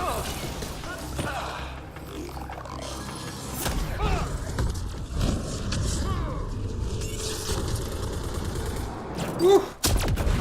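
A high-capacity gun in Mass Effect Andromeda fires in bursts, with mechanical clatter, thuds and a final sharp blast amid game effects and faint talk.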